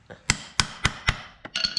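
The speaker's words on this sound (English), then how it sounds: "I'm just going to tap that" Hammer tapping a washer on a Jeep door stop: four evenly spaced sharp metallic taps close up, followed by a couple of quicker lighter hits.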